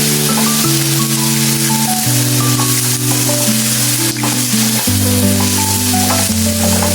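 Onions go into a hot pan for a creamy fish dish and crackle in a loud, steady sizzle close by. Low sustained tones run underneath the frying throughout.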